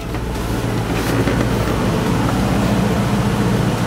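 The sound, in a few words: 1963 Ford Fairlane 260 engine running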